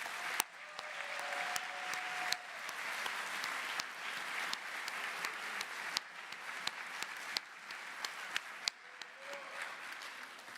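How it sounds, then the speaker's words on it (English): A graduation ceremony crowd in a large hall gives a sustained round of applause, with dense, even clapping and occasional sharper individual claps running throughout, without any voices. "With a round of applause, please."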